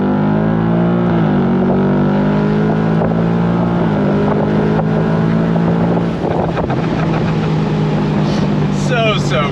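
A 2025 Ford Mustang GT/CS V8 muscle car accelerates hard on throttle, its engine note rising through the gears from inside the cabin, loud and continuous with wind noise and brief talk.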